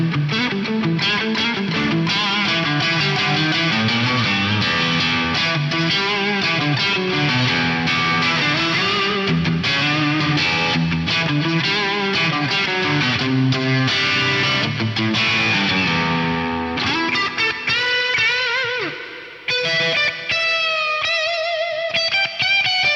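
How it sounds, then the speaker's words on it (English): BOSS SE-70 half-rack multi-effects unit set to its rich plate reverb, heard as a continuous dense wash of sustained reverberant music carrying steadily throughout, tails trailing off into sparser ringing notes near the end. "my favorite one is the rich plate reverb"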